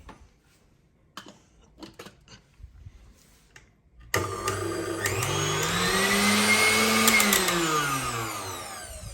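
A KitchenAid stand mixer motor, just repaired with its brushes flipped into the correct position, starts after a few quiet clicks and handling noises, then whines loud and steady while its pitch slowly rises and falls.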